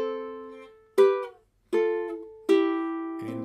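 A ukulele is fingerpicked through a line of a song: four clear, separated plucked notes ring and decay one after another, close and alone, with the last a fuller pinched note.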